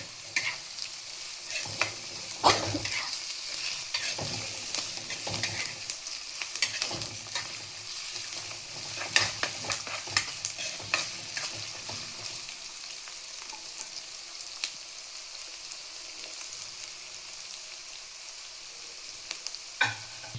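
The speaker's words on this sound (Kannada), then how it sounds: "ಚೆನ್ನಾಗಿ ಫ್ರೈ ಮಾಡಿ" Potato and flattened rice (avalakki) pieces fry and get stirred in a hot pan for a vegetable avalakki, with steady sizzling and repeated scraping clicks of the spoon, close and continuous, no talk.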